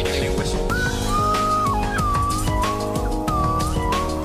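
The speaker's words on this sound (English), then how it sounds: "That's what they call a slide whistle." A slide whistle glides up and down in pitch several times, wavering and swooping over a busy background of other sounds.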